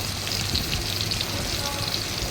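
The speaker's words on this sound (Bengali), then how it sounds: "বড় পিসগুলোই আমি ভেজে নিচ্ছি" Large pieces of hilsa fish fry in hot oil in a home kitchen, giving a steady, dense sizzle that holds evenly throughout at moderate loudness.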